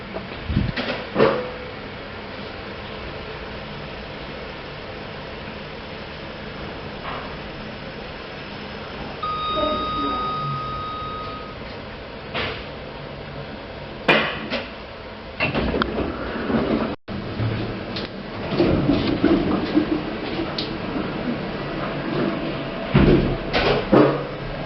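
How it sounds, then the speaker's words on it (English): Sega passenger lift at Mile End Hospital with first-generation Eco Disc fixtures and a third-generation Eco Disc motor, giving a steady mechanical hum of travel with a soft beep midway and door and cab noises toward the end, no talk. "first generation eco disc fixtures and the third generation eco disc motor"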